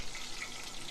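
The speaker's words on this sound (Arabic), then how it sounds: "ومنكمل قلي الباقيين." Chicken pieces frying in hot oil over medium heat, giving a dense, continuous bubbling sizzle that stays close and even for a brief moment with no voices.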